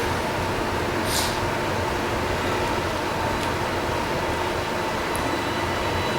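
Steady broadband rumble of a tram ride in the sci-fi horror video game Dead Space, a continuous mechanical drone with faint high hiss running alone the whole time.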